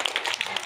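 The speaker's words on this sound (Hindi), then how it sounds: "तालियां बजाओ।" Children in a first-grade classroom clapping, a quick run of sharp, moderately loud hand claps close by, with no talking in the moment.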